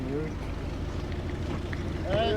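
Low, steady engine drone of a fishing boat motoring out of Portknockie harbour on the Moray Firth, carried under wind noise, with a voice briefly audible near the end.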